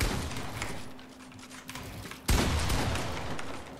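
Rapid burst of video game gunfire in a shootout, dense shots building then a sharp loud volley near the end, with no talk over it.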